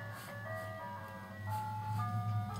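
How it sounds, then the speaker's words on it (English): An ice cream truck's jingle plays as a simple tinkling melody of sustained tones over a low vehicle rumble, moderately distant and steady throughout. "Ice cream truck, hear it?"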